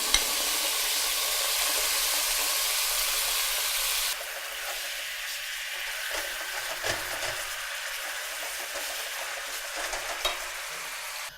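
Chicken pieces stir-fry in hot oil in a pan, giving a continuous close sizzle that drops slightly partway through, with light scraping and stirring noises over the top.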